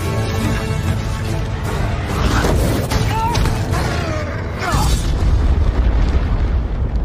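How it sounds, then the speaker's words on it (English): A deep rumbling boom from a dragon, a cinematic trailer effect, rolls through the whole stretch with surging low-end swells and a heavy hit near the middle. A scored, layered soundscape stays loud throughout. "Was that an earthquake? That, my lad, was a dragon."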